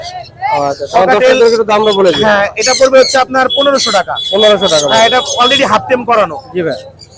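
Parrots, Alexandrine parakeets and cockatiels squawk and chatter around someone talking loudly nearby, amid the busy hubbub of the Mirpur 1 bird market.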